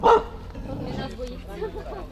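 A dog gives a single loud bark at the start, followed by people talking nearby, on a mountain trail on Mount Kukul in the Chornohora ridge, Carpathians.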